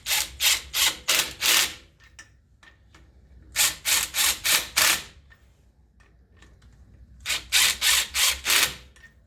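Impact wrench buzzing wheel-spacer lug nuts onto a vehicle hub in a star pattern for a Synergy wheel spacer install: three loud bursts of rapid hammering pulses, each burst about two seconds, separated by quiet gaps.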